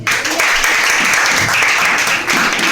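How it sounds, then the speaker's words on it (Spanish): Steady, dense applause from a church congregation during a service, loud and continuous throughout. "Dale el aplauso a Dios"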